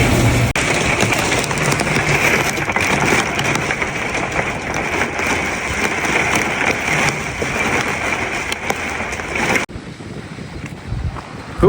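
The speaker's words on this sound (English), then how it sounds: "They say we'll get 80-mile-an-hour winds, and it feels like it." Strong storm winds of around 80 miles per hour roar and buffet the microphone while rain pounds steadily, loud and continuous, before easing briefly near the end.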